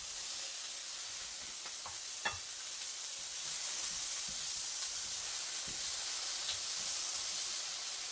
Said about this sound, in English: I'm going to add in the tofu so the tofu gets a little bit crispy and heats up